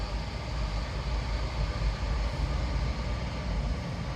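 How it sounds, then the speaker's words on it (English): A train rolls past on the seaside line at Teignmouth on a drizzly day, giving a steady loud rumbling roar with heavy low-end wheel and rail noise that holds continuously from start to finish without any talk. "Train!"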